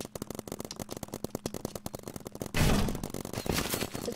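Rapid, evenly spaced shots from paintball guns in a Roblox game, a fast rattling burst that gives way to a louder, noisier wash of firing and impacts, with no talking.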